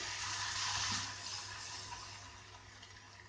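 Hot water poured into roasted wheat semolina in a pan for Goan soji: a rushing, bubbling pour that swells early, then fades into a softer sizzling hiss, close by with no voices.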